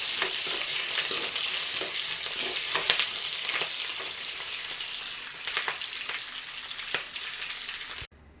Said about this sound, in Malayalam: ചെറുതായി അരിഞ്ഞതും വെളുത്തുള്ളി ചെറുതായി അരിഞ്ഞത് പച്ചമുളക് ചെറുതായി അരിഞ്ഞത് ഇവ മൂന്നും ഇട്ട്